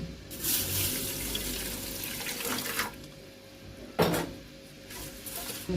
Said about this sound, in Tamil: லைட்டாக தண்ணி